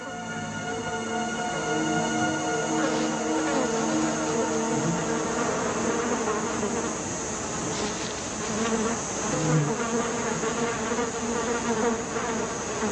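Dense insect buzzing fills the African savanna, a steady, loud, continuous drone of many wings with no pauses, close and enveloping, with no voices.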